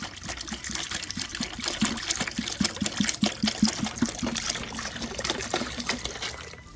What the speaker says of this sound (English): Fill that up with water as well.